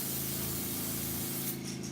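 An airbrush sprays paint onto a jointed fishing crankbait in a steady, close, continuous hiss with a low hum beneath and a slight shift near the end, no talking.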